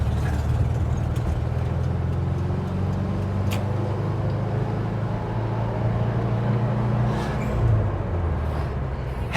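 A 1974 VW Bus engine pulls hard in second gear, a loud, steady low drone with a slight rise in pitch, heard from inside the moving vehicle.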